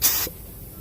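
A short, loud burst of air hissing from a vehicle tire being deflated down to 50 psi, lasting about a quarter second before cutting off into quiet background.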